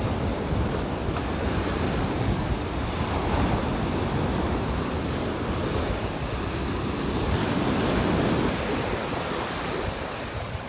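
Surf rolling and breaking continuously on a North Naples, Florida beach, a loud, broad wash of waves with wind buffeting the microphone, no voices.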